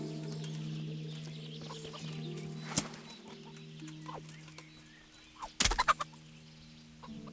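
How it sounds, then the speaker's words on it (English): Chickens cluck faintly in the medieval role-playing game Kingdom Come: Deliverance, soft scattered calls over a quiet ambient bed, ending in a brief loud flurry of squawks and flapping. "do you mind if I kill your chickens?"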